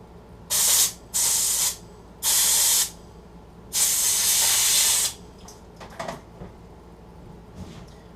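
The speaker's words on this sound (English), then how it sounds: "take it over to like an air compressor and blow it out as well" An air compressor blows out Craftsman push mower parts in four loud, close bursts of hissing air, the last one longer, followed by faint handling clatter.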